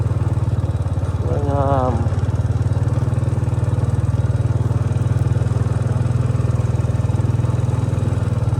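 A motorcycle ridden along a road in Salavan province, Laos, gives a steady, close engine drone that holds throughout, with a short spoken remark near the start.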